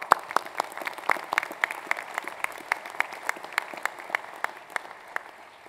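Steady applause from an audience at a university graduation ceremony, many hands clapping in a dense, continuous patter with a few sharper nearby claps standing out.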